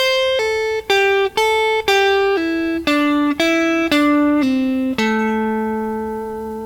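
A single guitar plays a slow descending blues scale run in A, about ten clearly separated plucked notes, each ringing briefly before the next, the last note sustaining.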